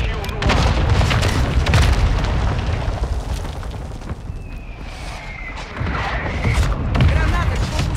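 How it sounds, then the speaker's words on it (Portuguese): Mortar strikes landing in a military shooter video game: heavy rolling booms and rumbling blasts, loud and continuous for most of the stretch, with brief sharp bursts and a voice at times. "Solicitando o morteiro. Posição marcada."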